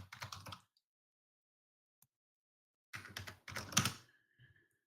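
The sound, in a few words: typing on a computer keyboard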